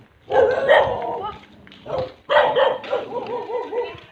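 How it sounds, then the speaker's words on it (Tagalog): A dog barks and yips in a few loud bursts close by, with short pauses between them. "May dog."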